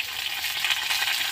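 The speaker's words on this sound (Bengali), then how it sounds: "আদাটা দিয়েও আমি একটু ভালো করে ভেজে নেব যাতে আদার কাঁচা গন্ধটা না থাকে।" Vegetable stalks and ground ginger fry in a pan alongside bitter gourd, giving a dense, continuous close sizzle with no voices.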